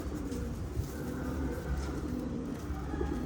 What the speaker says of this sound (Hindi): परफेक्ट कबूतर है